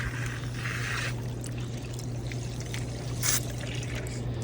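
Water trickles and pours into a drain leading into the ground, a steady close flow under a constant low hum with a few brief splashy bursts.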